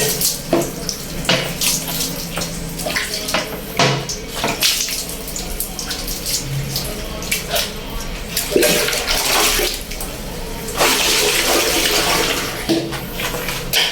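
Water runs and splashes during toilet cleaning, a loud close gush from a tap or flush with shifting sloshing and clattering throughout.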